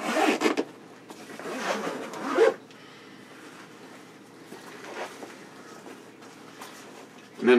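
Two zippers on a sniper pack pulled open in quick succession, a loud rasping run at the start followed by quieter rubbing and handling of the fabric, then another sharp zip burst at the end.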